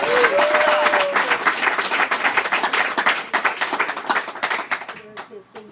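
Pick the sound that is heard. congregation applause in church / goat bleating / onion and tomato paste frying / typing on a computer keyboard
congregation applause in church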